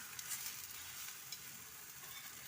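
Steady soft sizzling of corn roti cooking on a hot griddle, a continuous hiss with a few faint crackles, close and quiet.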